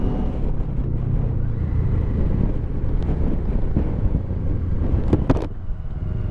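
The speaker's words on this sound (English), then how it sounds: "The wind is insane." Strong wind buffets the microphone on the ride over the bridge to Phillip Island during a MotoGP trip, a loud continuous low roar with a motor droning underneath.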